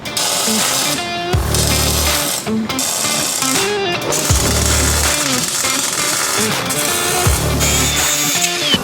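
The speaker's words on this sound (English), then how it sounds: "Let's drill some holes." A power drill grinds steadily and loudly through a metal plate in repeated long runs, with brief pauses and clattering between bursts, during custom front suspension work on a Chevy Avalanche dually.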